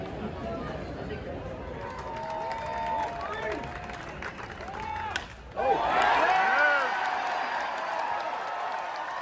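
A crowd cheering at a Cardinals spring training baseball game in Jupiter, Florida, after a walk-off win, with loud sustained roaring and applause from a large crowd and whistles rising near the end.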